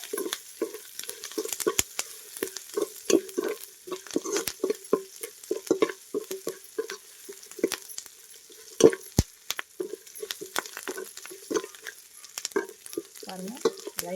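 Onions fry in a pan while being stirred until brown, with soft sizzling under repeated scraping and clattering stirs at an uneven rhythm, close by and moderately quiet.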